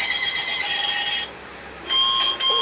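An electronic alarm clock rings with a shrill, steady tone, pausing briefly before resuming, with no voices.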